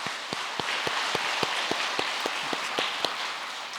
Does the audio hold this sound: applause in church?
yes